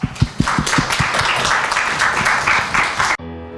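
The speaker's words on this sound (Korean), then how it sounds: "큰 박수로 맞아주시면 감사하겠습니다" A university showcase audience welcomes a student presenter with applause: a few sharp, separate claps first, then a full, steady round that cuts off abruptly near the end.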